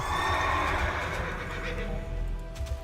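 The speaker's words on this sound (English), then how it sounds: "Summon that war horse." A war horse summoned in the World of Warcraft video game lets out a loud, bright neigh and whinny, accompanied by faint clip-clop hoofbeats and a steady game ambience underneath, with no talking.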